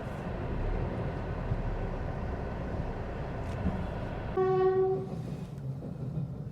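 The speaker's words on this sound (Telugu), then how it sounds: "చూడండి ఫ్రెండ్స్, ట్రైన్ వచ్చిందండి." A train passes a closed railway gate in Kakinada, heard as a low rumbling roll with a loud horn blast partway through, with no one speaking.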